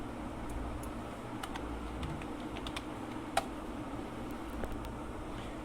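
Someone types a command on a computer keyboard, producing faint, irregular key taps over a steady background hum.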